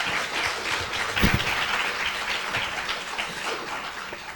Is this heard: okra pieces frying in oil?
no